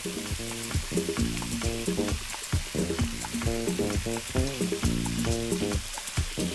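Grated coconut fries in a hot pan while being stirred for the old Bengali dish kharkhari, with a continuous close sizzle and scraping stirs beneath a tonal musical background.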